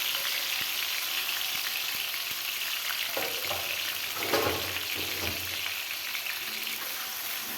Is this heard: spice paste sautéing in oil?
yes